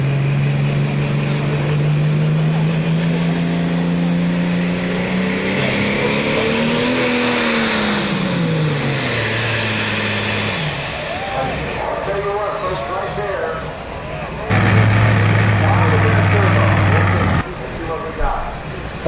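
An alcohol-burning two-wheel-drive super modified tractor pulling engine revs loudly, its pitch climbing then dropping, followed by rough roaring and a sudden louder burst as a voice talks over it.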